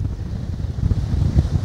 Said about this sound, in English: we've got a pretty good wind speed going now